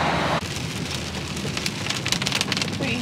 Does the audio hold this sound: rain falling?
yes